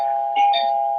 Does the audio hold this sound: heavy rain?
no